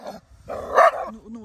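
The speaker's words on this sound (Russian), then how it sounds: "Ну ладно, пускай хоть на улице это погавкает." A dog barks outdoors in a residential street, a few close, loud yaps and woofs in quick succession with brief whimpering between them.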